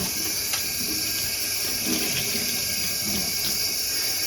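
Dyed wool roving being rinsed and washed with a little washing-up liquid under a running tap, a steady close rush of water with faint splashes and handling sounds, no speech.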